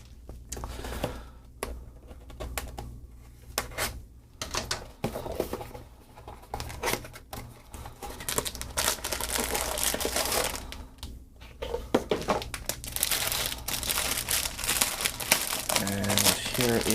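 Packaging for a Numark NS7III DJ controller platter is unwrapped, with loud continuous crinkling and crumpling of plastic and paper, denser and louder in the second half, and some speech mixed in.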